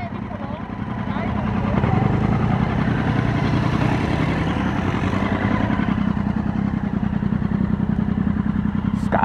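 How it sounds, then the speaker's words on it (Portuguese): Motorcycles arriving at a guesthouse, a steady loud engine drone with idling clatter sustained throughout, close by, with people talking over it. "Mas tá vindo mais moto?"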